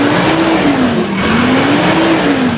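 An engine runs and revs loudly up close, a steady roar with rising and falling pitch as the throttle is worked.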